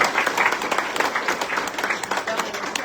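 An audience at a political event applauds with a dense, steady patter of clapping from a crowd, and a speaker's voice carries on over it.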